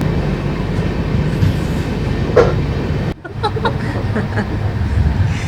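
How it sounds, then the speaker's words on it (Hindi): A Shatabdi Express train rolls steadily away from Bolpur station, its loud continuous rumble and wheel noise dipping briefly before surging back with rattling clatter. "यहाँ पे सिर्फ 2 मिनट का स्टॉप है और ट्रेन निकल चुकी है।"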